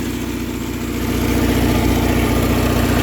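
Alfa Romeo engine fitted with a Chinese Weber 32/36 carburetor idles steadily, a loud, close, even mechanical rumble with a regular low pulse throughout and no voices.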